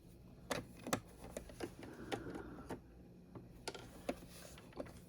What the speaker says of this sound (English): if you're sewing without using the foot pedal at all